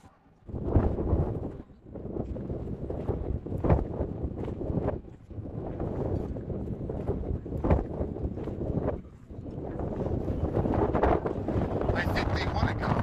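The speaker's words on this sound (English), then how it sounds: "It is rather windy out here." Steady wind buffets the microphone in continuous roaring gusts, with voices talking underneath throughout, out in the West Desert of Millard County, Utah.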